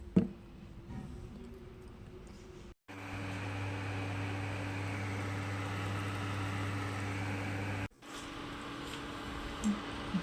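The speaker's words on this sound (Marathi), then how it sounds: "हे वाटून घेणार आहे आता." Mixer grinder whirring steadily as it grinds a wet masala paste of red chilli powder, coriander powder, salt and a little water, a loud continuous motor hum that starts abruptly and cuts off after several seconds.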